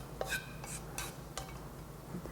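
Oil tteokbokki being stirred and plated, with faint clinks of utensil on dish and soft scraping scattered over a quiet background.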